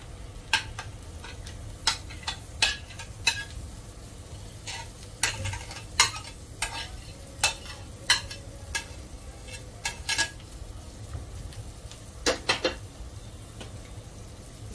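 A spoon stirring and pressing a restaurant-style pav bhaji mixture in a pan, with irregular sharp scrapes and taps over a soft, low sizzle, close up and without speech.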